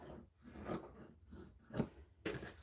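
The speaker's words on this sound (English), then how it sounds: "you rest your scissors and then cut along." Quiet, close scissor snips and rasping cuts through card, coming in a few uneven strokes with short pauses between.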